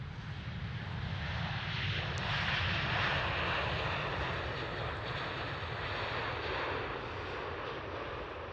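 A KLM Boeing 787 lands at Amsterdam Schiphol airport, its engines a loud, steady broadband roar that holds throughout without any talk, with some wind buffeting the microphone.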